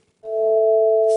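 Two steady sine tones a perfect fifth apart start together and hold as a smooth, even dyad, clean and loud with no voices, ending in a brief click.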